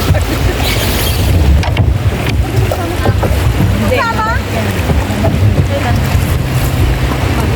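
Motorboat run by boatmen crossing a river toward Camp Agos in Daraitan, Tanay, Rizal, its steady engine drone mixed with wind buffeting and water splash, with brief voices in the boat.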